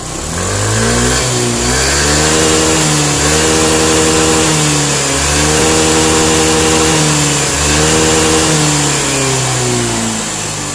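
A Yamaha scooter engine, such as a Fino 125, Mio M3 or X-Ride, revs up hard close by during a battery charging current test, climbing and dropping in repeated throttle bursts with no break.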